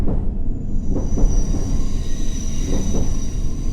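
A District Line subway train in World of Subways 3 rumbles along loudly with a steady high wheel whine and periodic rhythmic clunks over the rails, close and continuous with no voices.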